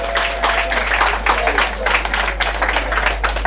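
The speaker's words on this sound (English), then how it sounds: "So I wanted to give our athletes who are over in London a round of applause as well." Applause from the audience at a Jamaican diaspora foundation gathering marking 50 years of independence, a steady broadband patter of many hands clapping throughout, fairly loud and close, with no talk over it.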